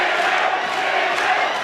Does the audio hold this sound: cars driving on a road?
no